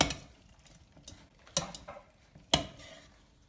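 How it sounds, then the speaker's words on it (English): A spoon stirs five-cheese macaroni and cheese in a pan, giving soft scraping with a few sharp clinks against the metal, close and fairly quiet, with no talking. "you wanna make sure you continue to stir this."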